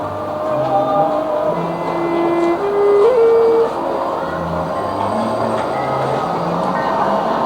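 A Chinese train rumbling along at a steady pace, a continuous low roar with tonal squeals and hums rising and falling over it.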